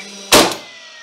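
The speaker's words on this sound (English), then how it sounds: "So we'll fire a nail now." A DEWALT cordless framing nailer fires once: a sharp, loud, close bang after a faint flywheel hum, followed by a brief fading whir as the flywheel runs down.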